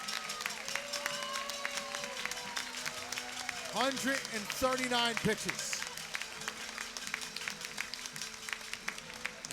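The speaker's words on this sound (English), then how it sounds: "We'll get a round of applause." Crowd applause at a Quebec Capitales vs Sussex County Miners championship series baseball game during a pitching change, scattered clapping and cheering from the stands under a play-by-play announcer's voice, with a brief whistle-like tone rising midway.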